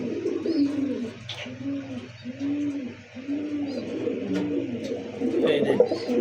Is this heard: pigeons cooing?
yes